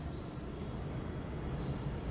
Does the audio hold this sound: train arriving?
yes